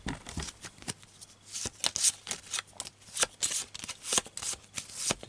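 Turn cards for a fantasy adventure board game being shuffled by hand, a run of crisp riffles and soft flicks in an uneven rhythm, close and clear with no talk.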